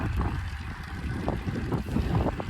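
Strong wind buffets the microphone in a constant low roar, with gusts swelling and fading throughout.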